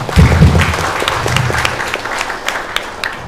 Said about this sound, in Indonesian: kita tepuk tangan untuk semua